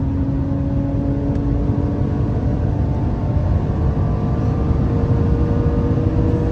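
A 700-horsepower car at full throttle on a race circuit, its engine a steady, loud, dense roar from start to finish.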